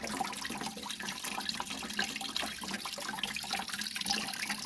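Coolant pours steadily from the plastic radiator drain of a Toyota 4Runner into a catch pan, a continuous close splashing trickle with no voices.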